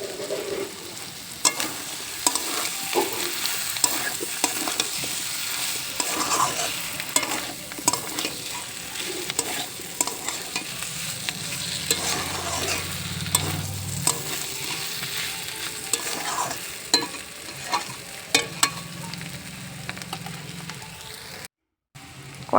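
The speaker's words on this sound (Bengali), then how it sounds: "এবার দিয়ে দেব মাশরুম ভাজা, দিয়ে আরও কিছুক্ষণ কষিয়ে নেব।" Fried mushrooms being stirred into a thick spiced mixture cooking down in a home kitchen pan, with steady sizzling and frequent scraping, clattering stirs throughout, close and fairly loud, with no talk.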